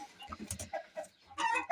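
Hens and guinea fowl clucking and squawking close by, a busy flurry of short calls with a louder burst near the end.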